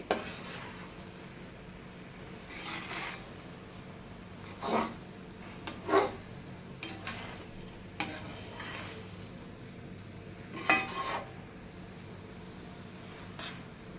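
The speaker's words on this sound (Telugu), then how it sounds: "ఇవన్నీ కూడా చక్కగా స్లోగా కలుపుకోండి." Pulao ingredients and fresh coriander being stirred in a pan, soft sizzling with a few scattered scrapes and clinks of a spoon against metal, quiet and close, no talking.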